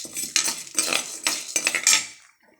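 Urad dal being stirred as it fries in a pan, heard as a run of sharp metallic scrapes and clinks from a spoon against the pan, close and fairly loud, with no talking.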